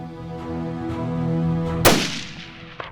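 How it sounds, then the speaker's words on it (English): A single loud rifle shot cracks out during an antelope hunt in Wyoming, sharp and sudden over a low steady hum, followed by a short fading echo and a faint click. "So got the second shot off."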